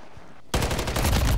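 Gunfire in a multiplayer video game, hip-fired from an MCW rifle: after a quiet half-second, a loud, dense burst of rapid automatic shots rattles on steadily to the end.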